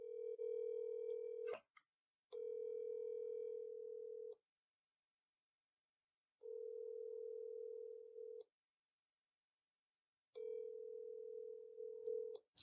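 Telephone ringback tone repeating on a call to a field correspondent that goes unanswered: four steady, loud tone bursts of about two seconds each, separated by silent gaps, with no voice answering.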